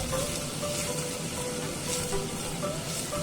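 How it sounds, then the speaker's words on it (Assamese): Three medium chopped onions fry in a pan for a goat meat curry, giving a steady, even sizzle with faint bubbling throughout and no voices. "ভালকৈ এতিয়া পিঁয়াজখিনি ভাজি ল'ম"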